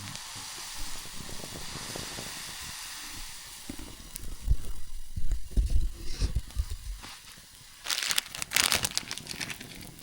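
A pot boils hard over a campfire in a banana forest, with a steady crackling, hissing bubble under rustling and handling noises, growing louder in bursts toward the end.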